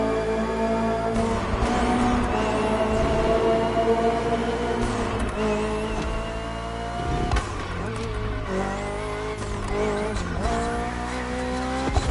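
BMW M Hybrid V8 endurance race car from 2023 in The Crew Motorfest, its engine roaring loud and close through gear changes and revs, with tire squeal and skidding mixed in, no voices over it.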